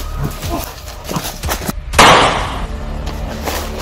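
Sharp gunshot-like bangs ring out during a tense rescue, several scattered cracks capped by one loud, close blast near the middle, with excited voices shouting around them.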